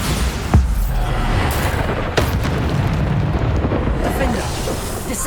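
Bombarda spell explosions in the video game Hogwarts Legacy: a dense, continuous rumble of booming blasts, with sharper bursts near the start and middle, loud and close, and a voice faintly audible underneath.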